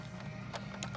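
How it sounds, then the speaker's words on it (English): A small screw on a solar lunch box is driven tight, giving a short run of faint mechanical clicks and ratchet-like ticks over a steady low hum, with no talking. "Okay, the screw is tightening."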